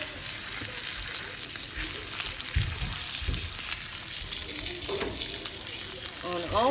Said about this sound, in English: We've got a cast iron skillet with piping hot butter. We are going to sear it.